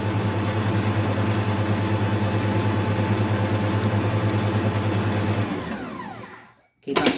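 Electric stand mixer beating butterscotch cookie dough, a loud steady whirring drone for several seconds that winds down and stops, followed by a brief clatter.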